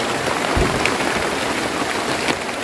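Steady rain pouring onto a hut shelter, a dense continuous hiss of drops with a few louder nearby splats, filling the scene without any talk.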